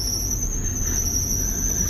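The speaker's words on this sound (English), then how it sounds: "And there the car's screeching." A lifted Suzuki Jimny gives off a sustained, piercing high-pitched screech that holds steady over a low rumble, loud and close throughout.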